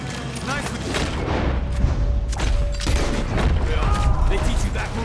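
Western gunfight in Red Dead Redemption 2, with repeated gunshots and booms going off at irregular intervals amid game clatter while someone speaks over the action.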